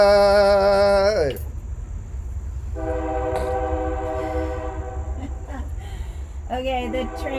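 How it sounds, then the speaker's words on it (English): A loud, sustained harmonic whistle blast lasting about a second, then a steadier tonal drone and a later short whistle burst over a rumbling background. "the train whistle was perfect"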